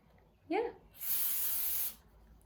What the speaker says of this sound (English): I definitely would spray those in the back.